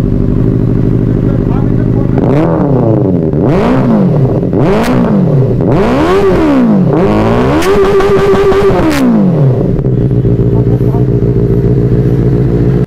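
A just-serviced motorcycle engine idles loudly and close, then revs up in four or five quick throttle blips followed by one longer held rev before settling back to a steady idle.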